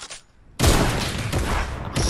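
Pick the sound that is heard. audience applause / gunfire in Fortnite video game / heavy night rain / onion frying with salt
gunfire in Fortnite video game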